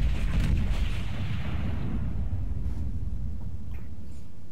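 Heavy naval guns of the battleship Tirpitz thundering in a World of Warships team battle, a dense low rumbling barrage that starts loud and slowly rolls off into a steady booming wash.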